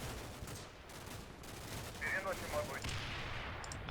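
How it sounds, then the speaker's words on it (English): Mortar rounds land and small arms fire rattles in the Combat Mission: Black Sea war game, with distant, muffled thuds and scattered shots sounding low and fairly faint across the scene. "More mortars landing around here."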